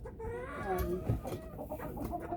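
Several chickens cluck and murmur close by in overlapping, uneven bursts, with a few higher squawks mixed in.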